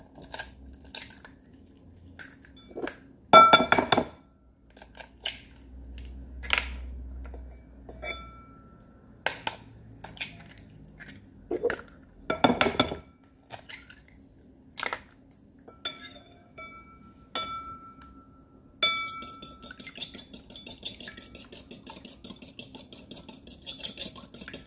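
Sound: beating four eggs in a bowl

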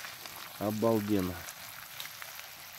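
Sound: freshly caught fish frying outdoors

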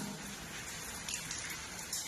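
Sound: hailstorm, rain and hail falling on a wheat field in Haryana

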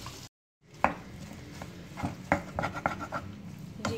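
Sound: potatoes added to roasting masala in a pan

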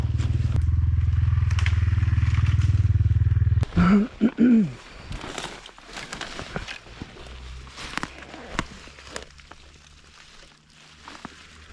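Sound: KOVI Lite 300 enduro motorcycle riding through bushes

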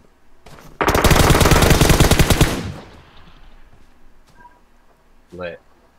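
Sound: gunfire in the video game PUBG Mobile

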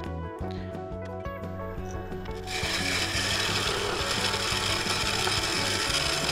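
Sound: woodturning tool scraping a Mudgee River sheoak bowl on lathe

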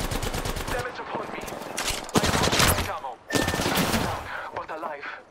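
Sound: gunfire in video game Apex Legends

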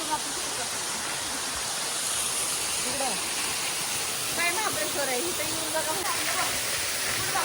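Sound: hidden waterfall Sulkoba in Khatav, Satara

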